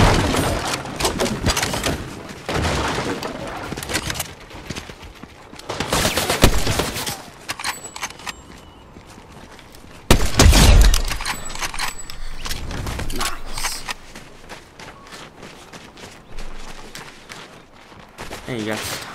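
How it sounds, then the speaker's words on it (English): Gunfire in the Fortnite Chapter 5 battle royale game, with repeated bursts of shots coming in bunches and a loud heavy blast in the middle, as a voice talks over the action now and then. "people shooting from the left"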